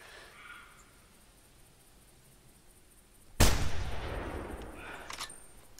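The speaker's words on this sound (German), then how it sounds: "Ich denke, wir werden gleich mal zum Schuss übergehen." A single sharp rifle shot fired at a roebuck while hunting deer in the 2013 video game theHunter, loud and sudden after quiet ambience, followed by a long decaying echo rolling across the landscape.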